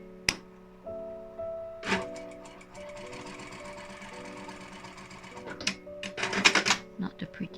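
A sewing machine runs in steady bursts, top stitching a fabric joey pouch at 2 mm, with a few tool clicks between stretches of stitching and a voice talking over it.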